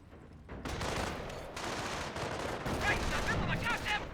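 Battle noise from a Company of Heroes 1 match, with a Pak 38 anti-tank gun firing at a Greyhound armored car amid dense overlapping gunfire and explosions, loud and continuous, with a commentator's voice faint underneath.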